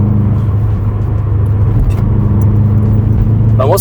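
A blue Subaru rally car's engine drones loudly and steadily while driving, a deep continuous roar from inside with a brief rev rise near the end and people talking over it.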